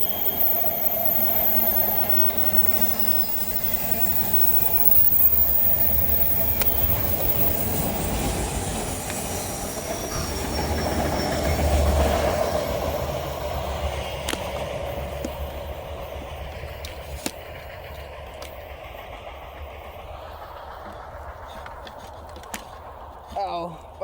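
A freight train hauled by Norfolk Southern locomotives rolls past at Glendale Park in La Crosse, Wisconsin, a loud steady roar of railcars and wheel clatter that swells mid-pass, then fades away as the train recedes.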